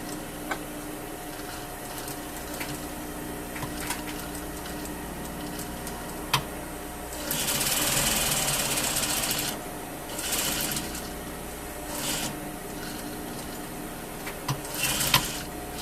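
A sewing machine stitches a single welt pocket in fabric, with short bursts of fast whirring stitching separated by quiet pauses and soft clicks, close and moderately loud.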